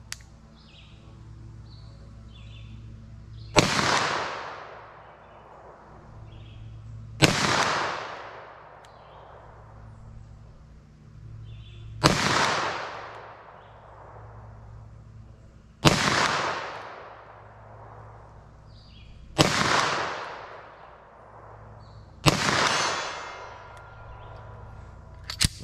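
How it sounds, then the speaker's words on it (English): Handgun firing .40 S&W +P 155-grain Buffalo Bore ammunition at an outdoor range, six loud single shots spaced several seconds apart, each with a sharp crack and long echoing decay over a steady low background hum. "let's see how it shoots for me at 75 yards with 40"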